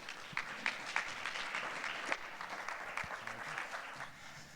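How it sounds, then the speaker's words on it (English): A conference audience at a summit on direct primary care growth gives a standing round of applause, fairly quiet and distant clapping with a few sharper claps standing out, continuing evenly throughout. "let's stand and give them a round of applause"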